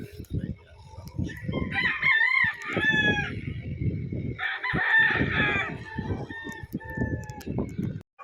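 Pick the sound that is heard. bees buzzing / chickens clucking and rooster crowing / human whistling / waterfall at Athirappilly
chickens clucking and rooster crowing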